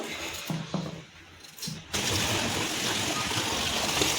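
Raw boneless chicken is rinsed under running water, with a few splashes and handling sounds at first, then a strong steady gush of water close by.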